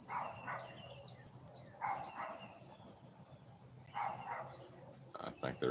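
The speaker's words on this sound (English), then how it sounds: "But Susie, she could bark at anything." A dog gives a few short barks at a distance outdoors in the morning, spaced a couple of seconds apart, over constant loud cricket chirping.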